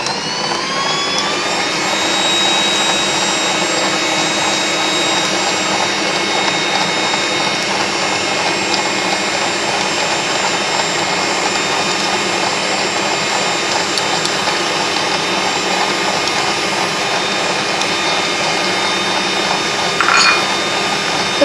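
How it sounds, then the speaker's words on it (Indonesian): An electric hand mixer whirs steadily at low speed through cake batter with margarine for a rainbow roll sponge, a loud continuous hum with no talking. "Ini mixer dengan tekanan rendah."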